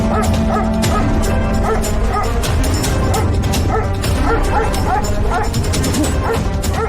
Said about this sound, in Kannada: ದರಿದ್ರವೇ, ತಿನ್ನೋ ಸಮಯಕ್ಕೆ ಸರಿಯಾಗಿ ಬೊಗಳ್ತೀಯ.